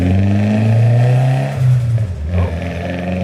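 A Nissan S-chassis car fitted with a swapped 350Z differential revs up nearby, its engine drone rising and holding loud before falling away, followed by a brief second rev and lighter mechanical clatter.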